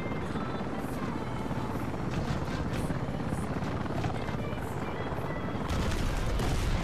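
A helicopter's steady rotor drone fills the scene in Battlefield Play4free, with sporadic gunfire-like bursts mixed into dense game noise throughout.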